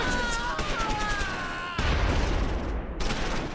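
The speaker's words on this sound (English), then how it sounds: "First Sergeant Kelly's squad in the rear provides covering fire." Covering gunfire from a rear infantry squad in Close Combat 4, a Battle of the Bulge fight at the Siegfried Line: dense, continuous bursts of rifle and machine-gun fire, loud and close, with a heavier crack partway through.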